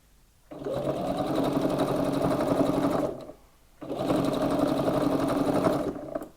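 A sewing machine stitches through several layers of a reversible shopper bag, securing a scallop and the handle at the top with a quarter-inch seam, running in two steady, close bursts of about three seconds each, separated by a short pause.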